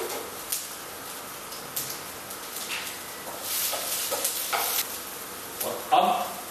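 Capsicum and cabbage sautéing in a pan for egg fried rice, with a soft background sizzle broken by repeated scrapes and stirring clatters of a spatula, with no talking.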